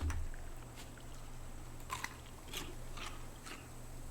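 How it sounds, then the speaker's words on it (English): Fish being eaten in the survival game Raft, heard as soft, quiet bites and crunchy clicks spaced irregularly over a steady low background hum. "We'll eat that fish we just got."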